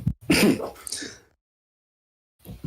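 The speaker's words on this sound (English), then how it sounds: "He's sneezing now." Someone sneezes once in a live podcast studio, a sharp burst with a throaty, breathy tail, followed by more than a second of silence before faint sound returns.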